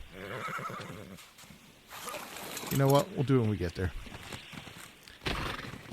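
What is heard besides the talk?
big horse neighing in video game Ark Survival Ascended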